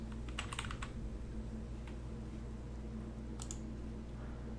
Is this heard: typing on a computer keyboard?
yes